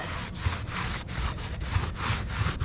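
Rhythmic back-and-forth rubbing and scrubbing on the fiberglass of a storm-damaged RV roof, quick repeated strokes about three per second, close and moderately quiet with no talking.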